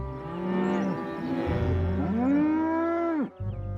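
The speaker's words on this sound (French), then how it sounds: "Ces vaches ne devraient pas être là." Cows in the animated Thomas & Friends show let out two long, drawn-out moos, one after the other, loud and close with no talk over them.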